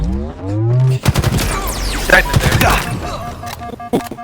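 Bursts of VR weapon fire in a competitive video game tournament match crackle through a dense mix of game sounds, with rapid sharp transients after the first second.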